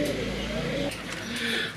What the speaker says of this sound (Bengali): এখানে আরেক জোড়া কবুতর এটা হচ্ছে বুম্বাই হোয়াইট বুম্বাই